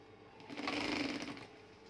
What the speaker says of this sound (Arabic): عملنا الاوفر بمكنه السنجر بتاعتي